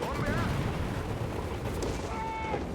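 Rapid machine-gun bursts and scattered gunfire from Company of Heroes 3 crackle as a busy battle mix under continuous commentary, with occasional whistling and effect tones.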